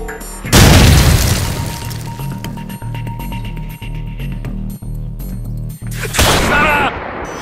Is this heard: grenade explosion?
yes